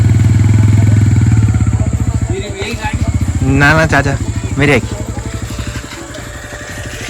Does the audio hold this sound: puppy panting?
no